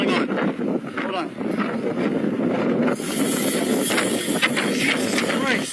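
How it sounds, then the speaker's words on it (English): Strong gusts of wind roar and buffet the microphone outdoors in Washington, D.C., a loud, continuous rumble that swells midway, with a voice partly buried beneath it. "It's so windy. I'm gonna get blown over here."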